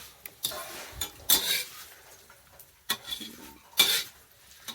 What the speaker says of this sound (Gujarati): ચોખાના પૌવા તળવાના છે